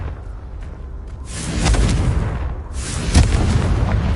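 A Confringo blasting spell goes off in Hogwarts Legacy, building into a broad roaring burst around the middle and then a sharper, louder explosive crack near the end, heavy and close.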